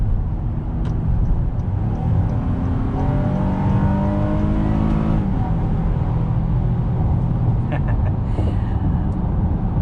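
A 2022 Honda Pilot's 3.5-liter V6 revs up under acceleration in sport mode, rising harmonic whine climbing in pitch, then easing off, with steady road noise throughout.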